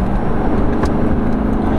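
A Chevy Silverado pickup truck drives along, its engine roaring loud and steady, as the transmission fails to downshift at too high a speed.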